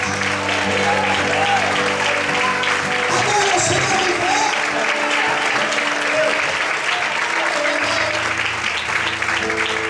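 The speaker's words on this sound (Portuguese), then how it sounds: "Em nome de Jesus, aplauda e exalte a Ele nessa noite." A church congregation applauding at an evening service, thick sustained clapping at full volume for the whole stretch over low sustained keyboard chords, with a preacher's voice speaking briefly.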